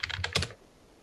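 A quick burst of keystrokes on a computer keyboard, several close, crisp clicks in a fast cluster that stops abruptly, leaving near silence.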